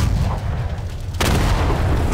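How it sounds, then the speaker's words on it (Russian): Garry's Mod bazooka firing: a sudden heavy boom cuts in over a low rumbling background, with a broad blast that lingers to the end. "и базука стреляет"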